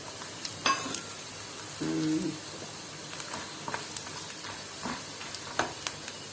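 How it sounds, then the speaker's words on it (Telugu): Ingredients for raw mango chutney fry in a pan with a soft even sizzle and a few stirring taps, while a pigeon coos briefly in the background. "కొంచెం ఫ్రై అవనిద్దాం."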